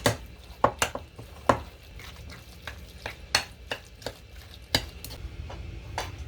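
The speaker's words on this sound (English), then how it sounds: "Then it's time to start mixing." Tuna salad mixed in a bowl with a utensil, making irregular close taps and clinks against the bowl with soft squishing between them. No one speaks.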